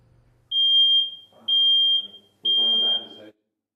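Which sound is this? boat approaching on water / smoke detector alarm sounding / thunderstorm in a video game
smoke detector alarm sounding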